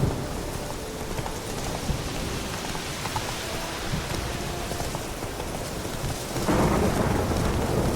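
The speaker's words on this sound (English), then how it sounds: "Talk about a dark and stormy night, huh?" Heavy rain pours steadily through a stormy night in The Witcher 3, with low thunder rumbling underneath and the downpour swelling louder near the end; no voices.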